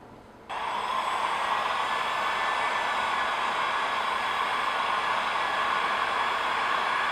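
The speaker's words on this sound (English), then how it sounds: "This is where I use a heat gun." A heat gun blows hot air onto foam spikes, switching on after a brief quiet moment into a loud, steady, close whooshing roar that holds without change to the end.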